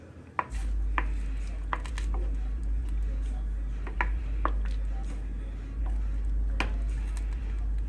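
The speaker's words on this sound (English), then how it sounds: "And then we're going to give this a stir." A spoon stirs garlic salt and black pepper through a pot, giving scattered light clinks and taps over a steady low hum, with no voices.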